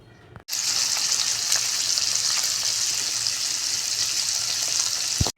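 A sudden burst of loud sizzling as boiled eggs with salt and turmeric drop into hot oil, then a steady crackling fry that stops abruptly.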